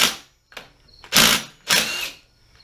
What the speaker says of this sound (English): Here it is. Impact driver. I love these things.